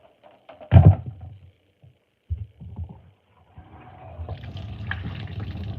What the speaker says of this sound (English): Yeah, it seems to be draining again.